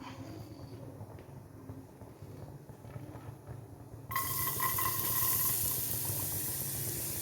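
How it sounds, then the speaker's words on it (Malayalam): Chopped carrots frying in ghee in a pan, a steady sizzling hiss that jumps louder when the carrots go in partway through and then holds, with no talking. "കാരറ്റ് വറുത്തെടുക്കാം"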